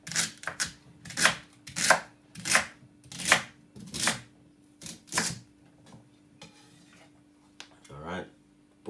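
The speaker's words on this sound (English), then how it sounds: "we're gonna just cut up our celery" A knife chops celery on a board in about nine sharp, evenly spaced strokes, close and crisp, followed by a short pause and a brief rustle at the end.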